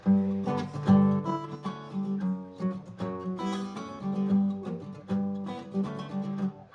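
An acoustic guitar strums a ringing chord pattern with open strings, rhythmic and close, repeating with a steady pulse.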